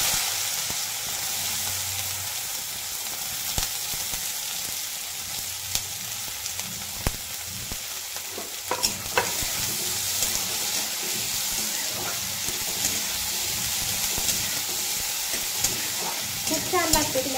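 Capsicum being stir-fried in a pan with a garlic and turmeric tempering, a steady close sizzle with stirring and occasional scraping clicks throughout, no talking.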